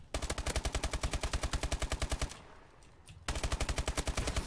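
Rapid automatic gunfire from an Advanced Warfare video game, a long steady burst of evenly spaced loud shots that breaks off for about a second, then resumes at the same fast rhythm.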